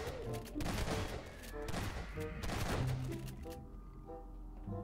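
Rapid, dense gunfire in the game Garry's Mod on a scary zombie map, with shotgun blasts and overlapping shots over a steady hum that cut off sharply near the end.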